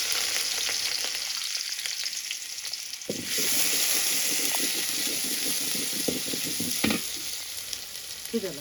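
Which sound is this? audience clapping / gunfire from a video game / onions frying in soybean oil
onions frying in soybean oil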